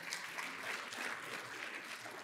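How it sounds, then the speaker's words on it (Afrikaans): A crowd at a 30th anniversary celebration claps hands in dense, continuous applause, steady and moderately loud throughout with no voices standing out. "Kom ons gee lekker hande klap."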